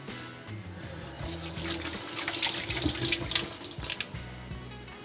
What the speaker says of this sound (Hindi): हाथ पहले धो लेते हैं।